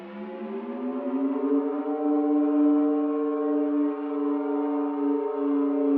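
An FM synthesizer patch imitating a siren holds a sustained, slowly rising wail with drifting, beating harmonics, loud and steady throughout with no talking.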